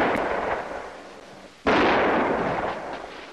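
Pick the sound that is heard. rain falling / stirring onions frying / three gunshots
three gunshots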